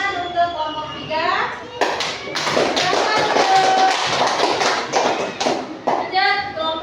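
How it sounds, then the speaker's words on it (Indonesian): A classroom of students applauds group 3 with a burst of clapping, loud and fairly sustained in the middle, with a teacher's voice and children's chatter at the start and end. "Oke, tepuk tangan untuk kelompok 3."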